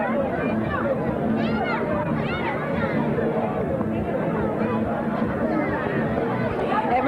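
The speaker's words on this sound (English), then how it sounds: "Everybody here in a very festive mood, and quite a crowd out to witness this Cactus Fest 1990 float parade" Festive crowd at the Cactus Fest 1990 float parade on Grand Turk, a continuous outdoor babble of many overlapping voices and chatter, steady and fairly close throughout.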